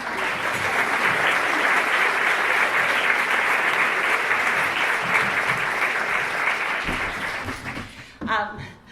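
Audience applause greets two guest speakers at a talk event, steady broad clapping from a full crowd that rings on for about eight seconds before fading out, with a few voices and a brief shuffle at the end.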